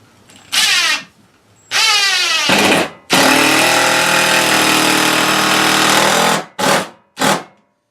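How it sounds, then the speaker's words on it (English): A power drill drives a 3-inch deck screw into wood on a homemade tool bench, with several short whirring bursts and one long, loud sustained run, each start and stop sharp and close. "I'm going to run a screw in. They're just 3-inch deck screws."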